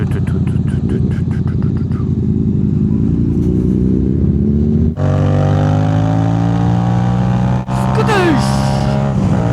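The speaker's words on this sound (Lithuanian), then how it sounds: "Bet tie mocai greit apsilenk mašinas." A BMW 1000RR motorcycle engine revving and accelerating hard, rising in pitch through several gears with clear shift breaks, loud and close.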